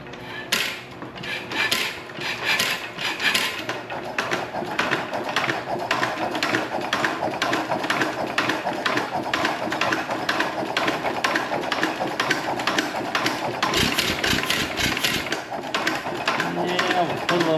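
A worn-out 1920s Ottawa drag saw engine with loose parts cranks over in a rapid, steady clattering rhythm of mechanical knocks, close and loud, with people talking over it.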